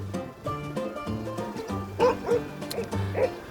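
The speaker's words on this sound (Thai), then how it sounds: "น้องเห่าอะไรครับน้องเห่าอะไรครับ" A dog at a roadside plot of land in Samut Sakhon, Thailand, barks repeatedly at close range in short bursts, with someone talking over it.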